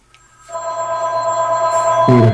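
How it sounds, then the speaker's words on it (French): A telephone rings with a steady electronic tone that grows louder and continues throughout, with no talk over it. "It's our telephone. Can you get that phone?"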